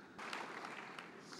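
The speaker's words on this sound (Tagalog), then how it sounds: "Sa lakas po ng palakpak nyo." An audience applauds at an NGO network congress, a dense burst of clapping that rises suddenly and holds steady, faint and distant-sounding for a moment.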